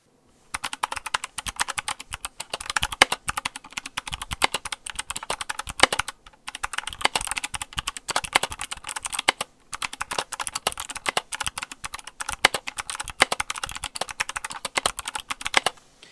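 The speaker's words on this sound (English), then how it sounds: "you do sacrifice the typing experience because there is no stability when typing on your lap." Continuous rapid typing on a mechanical keyboard resting on a lap, clacky keystrokes in steady bursts with two brief pauses, close and clear, no voices.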